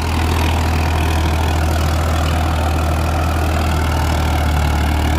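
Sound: tractor engine running

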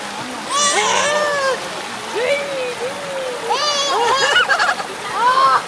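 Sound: child splashing in water at small waterfall

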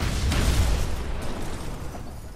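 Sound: explosion in the video game Batman: Arkham Asylum

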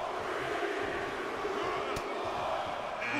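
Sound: crowd cheering in WWE 2K22 wrestling video game

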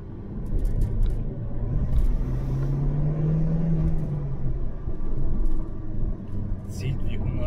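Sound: Audi Quattro engine accelerating

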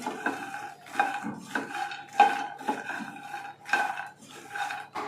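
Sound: stirring makhana (fox nuts) in a pan

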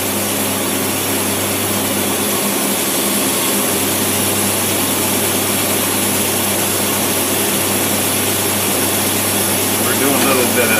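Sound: car engine idling with tri-power carburetors

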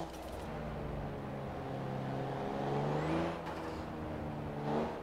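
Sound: Alfa Romeo car turbocharger in video game Forza Horizon 4

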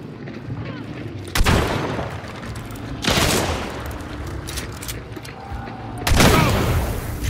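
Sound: gunfire exchange in the video game Hunt: Showdown

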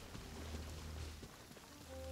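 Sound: rain in video game Genshin Impact

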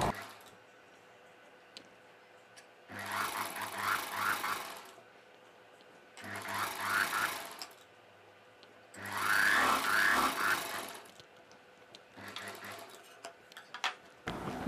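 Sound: sewing machine stitching the folded hem of a dress sleeve

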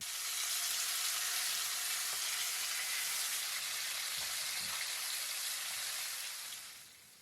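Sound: rupchanda pomfret fish frying in hot oil

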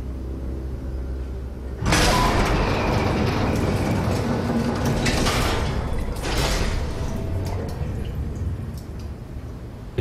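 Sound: door opening in video game SOMA

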